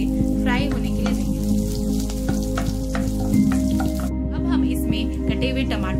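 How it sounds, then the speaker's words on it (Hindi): Cumin seeds, ginger and green chillies frying in hot oil for an aloo gobi dish, a steady close sizzle with faint crackle running throughout, under a speaking voice. "जीरा डालेंगे, अदरक और हरी मिर्च डाल देंगे और इसे अच्छी तरह से फ्राई होने के लिए देंगे"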